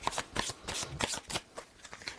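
A Divine Deco tarot deck is shuffled close up in quick riffling bursts of papery card flicks, one after another, with no voices over it.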